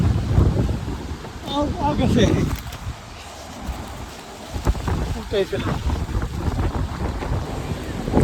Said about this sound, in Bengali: প্রচুর বৃষ্টি এবং প্রচুর বাতাস।